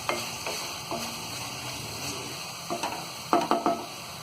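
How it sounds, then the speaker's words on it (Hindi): Guava chutney with ground black pepper is stirred in a pan, a soft low simmer under a series of spoon scrapes and taps, the last few knocks closer and louder. "इसे भी अच्छी तरह मिक्स कर देंगे।"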